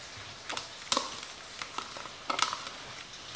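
Onions cook in a pan with a quiet, soft sizzle, punctuated by several close scraping and stirring clicks at an uneven pace.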